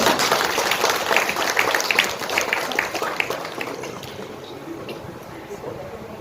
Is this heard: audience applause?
yes